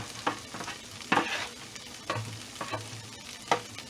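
Onions and almonds are stirred in a hot pan, with a soft sizzle under several distinct scraping strokes of the spoon at an uneven pace, close by.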